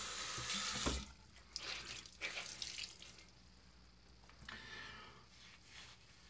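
Running tap water rinses shaving lather off a brush or bowl at a sink, a steady splashing rush with a louder burst near the start, then softer intermittent water flow.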